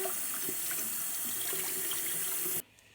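Tap water runs steadily and loudly into a sink as foraged mint is rinsed, with a soft splashing texture throughout, before the flow cuts off abruptly near the end, leaving near silence.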